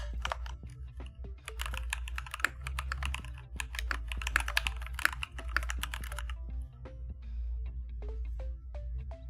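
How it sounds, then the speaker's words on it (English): Rapid, continuous clatter of keys on a computer keyboard, close and fairly loud, with irregular bursts and brief pauses and no voices. "then I can type those real fast"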